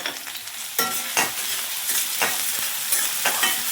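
Onion fries in hot oil with a pinch of salt, a loud close sizzle with repeated scraping stir strokes every half second or so, no voices.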